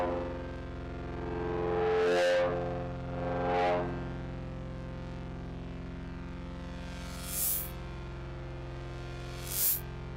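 Heavily distorted, EQ-swept synth noise processed by the Saturn 2 distortion app on iOS, a sustained buzzing drone with several loud filtered swells and sharp bursts, alone without talk.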